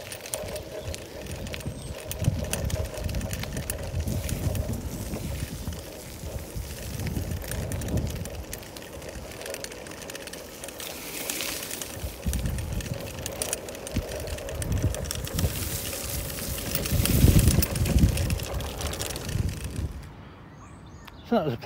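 Vintage 1933 New Hudson City Gent 3-speed bicycle ridden outdoors, with continuous mechanical ticking and rolling noise under gusty wind rumble, steady throughout with a brief quieter moment near the end.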